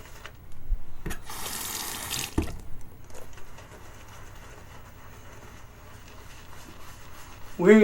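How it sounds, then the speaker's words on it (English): Tap water runs briefly into a wet shaving mug holding Williams soap, a short splashing stream up close, followed by quiet handling noise and faint room sound. "Gonna add a little bit of water."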